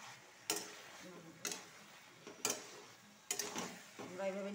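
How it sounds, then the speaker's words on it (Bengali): Spice paste with green chillies is sautéed in a pan for a labra vegetable curry. A utensil knocks and scrapes against the pan in sharp strokes about once a second over a faint sizzle. "এটা ভালো করে মশলাটা ভালো করে সাঁতলাতে হবে, কাঁচা গন্ধ করতে নেই"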